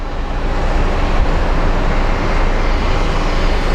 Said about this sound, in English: Alrighty, we have another plane incoming.